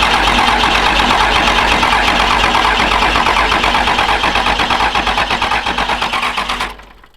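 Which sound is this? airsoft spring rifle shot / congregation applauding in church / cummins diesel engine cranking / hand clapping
cummins diesel engine cranking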